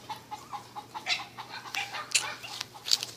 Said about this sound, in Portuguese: Ó, uma galinha ali.